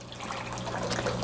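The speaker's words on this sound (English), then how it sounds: "This is a bell siphon, and it's fixing to siphon." Water gurgles and trickles steadily through a bell siphon in a greenhouse aquaponics setup, a close, continuous wash of flowing liquid with a low pump hum beneath it.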